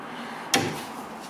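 A cupboard door on a mid-century wooden sideboard shuts with a single short wooden knock, close and fairly crisp against quiet room tone.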